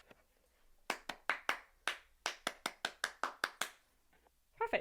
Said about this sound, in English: so that's just recorded what I've played, what I've done with my claps